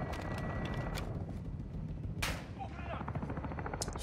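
Shotgun blasts in the video game Modern Warfare II, heard as a few sharp reports with one strong burst mid-clip, set against a steady rumbling game soundscape.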